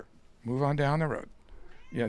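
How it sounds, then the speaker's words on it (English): A pixie-bob pet cat lets out a long, drawn meow close by, followed by a shorter one, while someone speaks over and between the calls. "That's my cat in the background now walking by."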